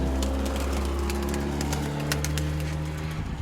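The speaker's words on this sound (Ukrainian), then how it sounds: "Прийшли, прийшли голубки." Pigeons coo near a loft, soft repeated low calls over a steady hum and some background noise.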